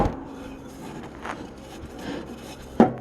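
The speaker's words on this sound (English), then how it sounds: "We're going to try to put the belt on" A drive belt is worked onto a pulley of a John Deere GX95 mower deck, giving close rubbing and scraping sounds with a few soft knocks and a sharp clunk near the end.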